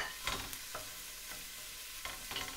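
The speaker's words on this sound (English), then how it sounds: "Right, I'm adding the onions and the garlic." Onions and garlic fry in a pan for an old-school school-dinner curry, giving a soft, steady sizzle broken by a few scraping stir strokes, quiet and close.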